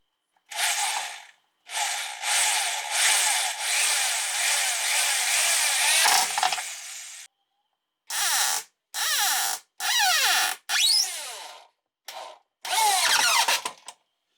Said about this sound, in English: Now I'll screw the bottom part of this onto the wall.